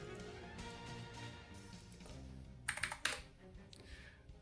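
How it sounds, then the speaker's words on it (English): Typing on a computer keyboard during an online Pokémon battle, a quiet run of soft key taps ending in a few sharper, closer clicks, with no talking. "I'm just typing GG."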